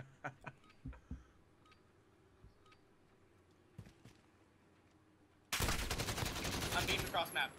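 Gunfire in Modern Warfare on a winter docks map: a few sparse distant shots and clicks, then a sudden loud burst of rapid automatic fire up close.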